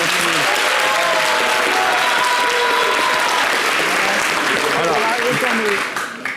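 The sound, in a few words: audience applause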